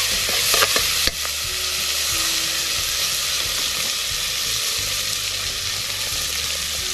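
Tomatoes and onion rings stirred into a hot pan for sinigang na bangus sizzle steadily, with a few scraping clinks at the start, then an even frying hiss that continues close and loud without talk.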